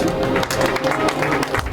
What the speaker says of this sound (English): Nate, give him a round of applause as he returns to his seat